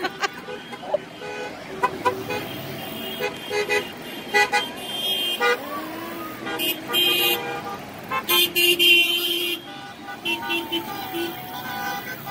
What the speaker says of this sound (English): now he sounds like a house alarm